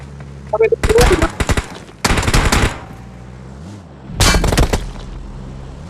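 Bursts of automatic gunfire in PUBG Mobile on the Livik map, loud close rapid volleys in three main clusters separated by brief quieter gaps.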